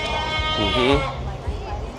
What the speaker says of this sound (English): Over this way, we've got goats. Looks like they're having a goat competition right now.